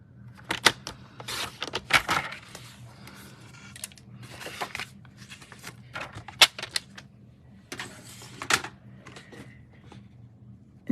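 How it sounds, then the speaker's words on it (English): Cardstock card base being cut with a paper trimmer, a series of sharp clicks and short sliding swipes at irregular intervals, close and fairly quiet. "I'm going to cut off 3/4 of an inch"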